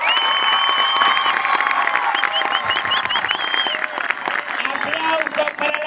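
A lively crowd in Mar del Plata bursts into loud applause mixed with cheering, whistles and shouting, dense and continuous throughout, with voices calling out over the clapping.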